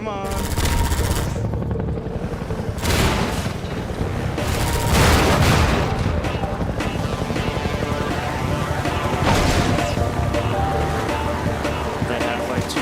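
Automatic gunfire in the Half-Life 2 video game, dense and continuous bursts over a loud soundtrack and effects bed, with a heavier surge midway; a player talks over it.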